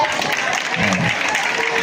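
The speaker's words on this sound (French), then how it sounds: "J'aimerais que vous applaudissiez" Loud, dense applause from a school gathering congratulating pupils, a steady wash of clapping with voices mixed in throughout.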